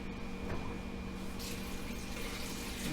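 A Panda compact washing machine drains its rinse water with a steady gushing, splashing rush of liquid, faint but constant, joined partway through by a hiss of running water.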